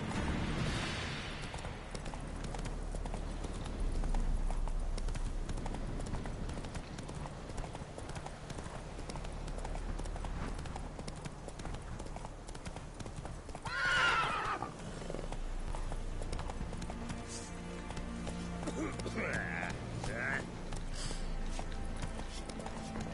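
Geralt's horse Roach in The Witcher video game, a steady run of galloping hoofbeats throughout with a sharp whinny midway and another neigh near the end, over background game ambience and some speech.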